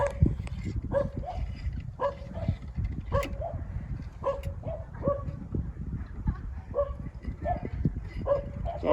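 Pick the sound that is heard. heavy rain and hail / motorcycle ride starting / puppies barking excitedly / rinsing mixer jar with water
puppies barking excitedly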